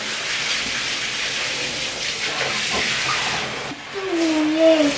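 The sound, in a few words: water poured on a child in a bath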